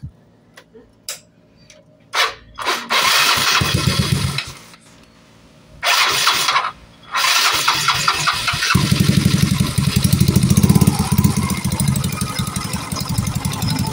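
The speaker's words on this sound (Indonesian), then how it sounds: "Kita coba hidupkan dulu motornya." A Yamaha Mio Sporty scooter that dies without a battery sputters through a few starter attempts and brief bursts, then catches and idles steadily with a rapid, close putter.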